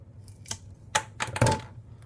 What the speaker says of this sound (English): we're going to take our scissors here, and we're going to cut this pipette tip